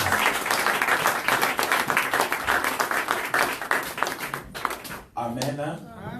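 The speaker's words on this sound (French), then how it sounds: "Est-ce qu'on peut les acclamer pour la gloire de Dieu?" A church congregation breaks into loud, sustained applause and cheering that fills most of the moment, then fades before a voice returns near the end.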